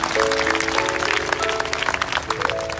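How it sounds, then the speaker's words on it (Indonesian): A church congregation claps steadily for a few seconds, with a sustained musical tone ringing underneath. "kasih tepuk tangan untuk Tuhan sekali lagi"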